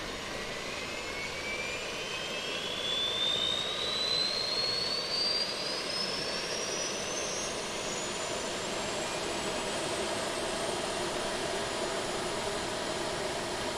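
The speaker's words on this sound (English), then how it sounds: "That is a good start on the APU." An auxiliary power unit spools up on an Aerosoft CRJ900 airliner in Microsoft Flight Simulator, a steady turbine whine climbing gradually in pitch over a broad, constant roar with no talk.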